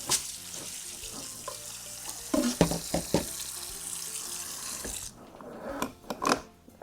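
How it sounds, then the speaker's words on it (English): Tap water runs steadily over black-eyed peas in a colander, with hissing spray and clattering knocks from the peas and colander, and the flow thins toward the end. "In a colander, go ahead and just rinse them."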